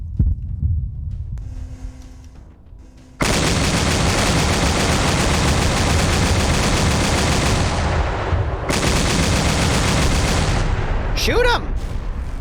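Heavy gunfire from Black Templar Space Marines and Hydra guns in a video game battle on a custom map. Low rumbles give way to a dense, continuous wall of loud shooting and explosions, with a brief dip and a synthetic whine near the end.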